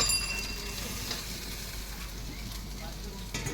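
Spiced curry sizzles and hisses quietly in a hot pan while it is stirred, a steady soft frying crackle with faint scraping and a brief clatter near the end.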